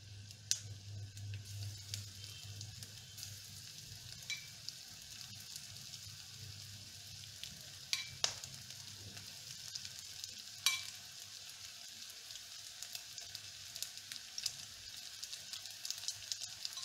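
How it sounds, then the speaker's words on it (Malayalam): Marinated beef pieces fry in hot oil in a pan, a soft, steady sizzle running throughout, with occasional crackles and pops and a low background hum. "ഇതിലേക്ക് നമുക്ക് ബീഫിൻ്റെ മാരിനേറ്റ് ചെയ്ത് വെച്ചിരിക്കുന്ന ബീഫിൻ്റെ പീസസ് ഓരോന്നായിട്ട് ഇട്ട് കൊടുത്ത്"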